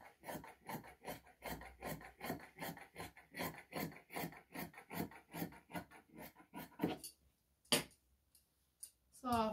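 Scissors cutting djellaba fabric: a quiet, steady run of rapid, rhythmic snips, then a pause broken by a few isolated final cuts.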